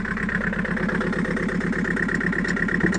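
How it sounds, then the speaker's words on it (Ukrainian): A 2000 Nissan Patrol 3.0 diesel engine idles close by with a steady, rapid low chugging rhythm and a constant mid-range drone, no talk. "З півтика машина завелась."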